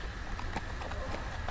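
Hooves clip-clop at a steady gallop in a Game of Thrones video game, a continuous rapid rhythm with game ambience and a voice talking over it.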